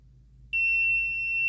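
Multimeter continuity beep while checking a soldered wire splice: a single steady high-pitched tone switches on about a third of the way in and holds loud and unbroken to the end, over a low background hum.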